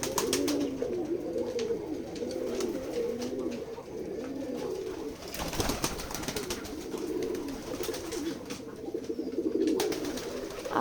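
Pigeons kept in a village in Keshabpur, Jessore, coo continuously in overlapping, throaty rolling calls, close by and steady, with a brief scuffle of movement midway.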